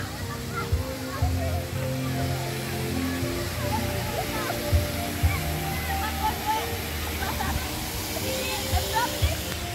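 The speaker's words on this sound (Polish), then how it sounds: "Ten jest ciekawszy, ponieważ ma taki wodospadzik." A small waterfall feature pours into a hotel resort pool, giving a steady splashing rush that runs throughout under a voice talking, with occasional louder sloshes.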